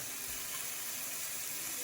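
An ahi tuna steak sears in a hot pan, giving a steady, even hiss and sizzle that holds at a constant level throughout.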